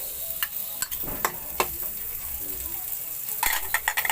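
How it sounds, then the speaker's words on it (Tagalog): Onion dropped into a hot pan and sizzling, with a steady hiss broken by sharp clinks and scrapes of a utensil stirring against the metal. "Lagyan natin yung sibuyas."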